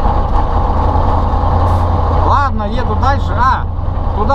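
An Ural truck driving along a forest track, a loud, steady low engine rumble throughout, close and heavy, with someone talking over it in the second half.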